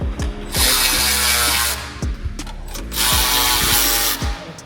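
A Milwaukee power tool works on a Mustang during reassembly, firing two loud, whirring bursts of about a second each, separated by a short pause with light mechanical clatter.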